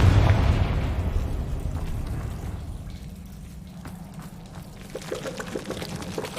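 Confringo blasting spell explosion in Hogwarts Legacy, a heavy, booming burst right at the start that rumbles and crackles as it fades, with faint debris-like pops trailing afterward.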